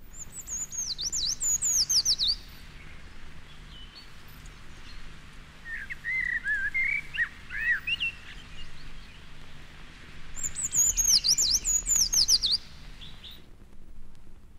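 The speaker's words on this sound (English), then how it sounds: "The tree creeper's song, heard here with that of a blackbird, consists of from 3 to 5 thin single notes followed by a sibilant flourish" A tree creeper's thin, high notes and sibilant flourish sound in a British woodland, opening and closing the stretch, while a blackbird's lower warbling phrase fills the middle, all clear and fairly close with faint background hiss.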